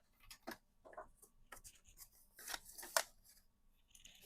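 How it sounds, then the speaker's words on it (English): Scissors cutting a sheet of cardstock down to 5½ by 11 inches for a tri-fold mini album, a few separate crisp snips and paper rustles spaced across a few seconds, close and quiet, with no talking. "I do need to get another piece of paper, cardstock."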